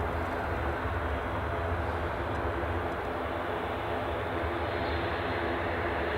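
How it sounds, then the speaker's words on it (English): An EasyJet airliner on the Bristol flight at Edinburgh Airport gives off a steady, distant low engine rumble that holds evenly throughout, with no talk over it. "So we're looking at the EasyJet Bristol flight at the minute."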